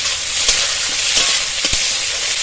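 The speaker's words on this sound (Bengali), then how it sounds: "মশলাটা ভেজে নেব।" Spice masala frying in a pan with chopped tomatoes, coriander stems, cashews and salt, a loud, close, continuous sizzle with a few soft stirring knocks.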